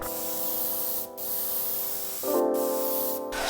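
An airbrush sprays paint in wide, soft passes over a white wooden frame during a wood repair, making a steady close hiss with brief pauses and a tonal whine that shifts pitch partway through.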